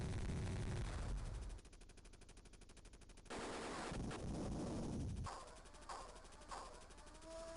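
Rapid machine-gun fire rattles steadily at fuel tanks in the Sega Genesis game Jungle Strike, then breaks into choppier bursts, loud and alone with no talk.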